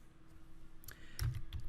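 A few keystrokes on a computer keyboard, quiet clicks clustered toward the end over low background noise.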